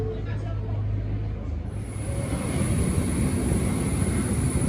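A small airplane for a flight from Bangkok to Trang gives a loud, steady, close engine roar, with a thin high whine joining partway through and holding to the end.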